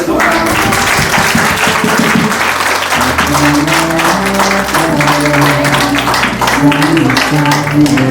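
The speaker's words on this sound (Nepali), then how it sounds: "हामी सबैजनाले ताली बजाइदिन्छौँ।" Wedding guests clap together during a Christian wedding ceremony, a steady dense patter of hands that runs throughout, while tuneful music with a low bass line plays underneath.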